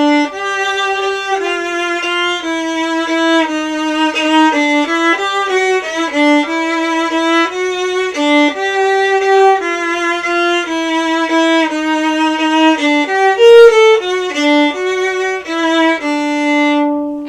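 A smooth, flowing waltz theme from Danse Macabre plays as a continuous melody in lilting triple time over sustained lower notes, at moderate loudness with no voices.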